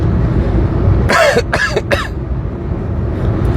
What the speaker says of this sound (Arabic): لا دي كحه يا فندم، انا بعطس، انا بكح.